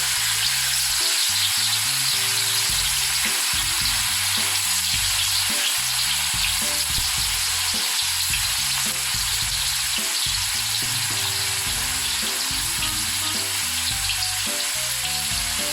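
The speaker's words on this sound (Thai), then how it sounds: "น้ำมันร้อนแล้วนะคะเอาเต้าหู้ลงไปทอดเลยค่ะ" Two slabs of tofu deep-frying together in hot oil for a Thai vegan salt-and-pepper tofu dish, giving a loud, steady, dense sizzle and crackle throughout with no voices.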